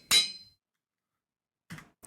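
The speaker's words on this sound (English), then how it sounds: "a bunch of ingots with a hammer" A hammer strikes metal ingots while crafting a wrench in the Minecraft GregTech New Horizons modpack, giving one bright, ringing clang. Fainter clinks follow near the end.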